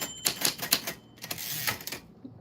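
A mechanical typewriter clatters through a quick burst of close, crisp keystrokes, pauses briefly, then resumes with another run of strikes; a faint ring may sound at the start.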